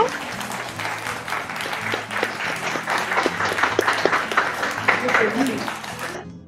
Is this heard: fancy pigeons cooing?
no